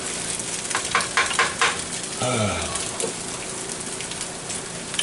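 Eggs sizzle and crackle steadily in a hot pan while being stirred, with a few scraping strokes and a short low voice-like sound partway through.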